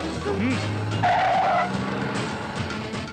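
Car tires skid and squeal in a Hindi-dubbed South Indian action movie scene, a loud continuous screech over engine noise, with voices briefly audible in the mix.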